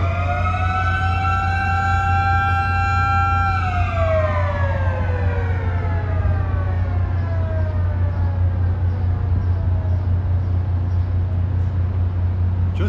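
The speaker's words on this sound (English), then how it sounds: "they did all that fanfare and sirens, and the bridge is going down." A loud, sustained bridge warning siren wails at a steady pitch as a railway bridge lowers, then slowly winds down and fades, over a constant low mechanical rumble.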